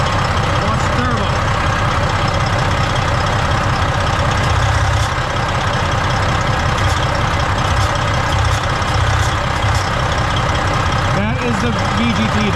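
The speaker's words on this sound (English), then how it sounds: "The VPods run are the turbo and the EGR valve on this motor. It's a 14-liter Detroit." A 14-liter Detroit diesel truck engine with a failing turbo and VGT vane actuator runs at a loud, rough, steady idle close up while someone talks over it throughout.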